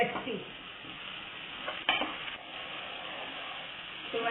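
Garlic and ginger frying in a pan, giving a faint, steady sizzle with a few soft stirring scrapes, one brief sharper clink near the middle.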